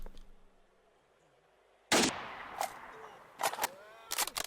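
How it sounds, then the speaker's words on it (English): After a quiet stretch, sharp gunshots crack out in the game S.T.A.L.K.E.R. One loud report is followed by several scattered shots and short bursts at irregular intervals. "Who's shooting at me?"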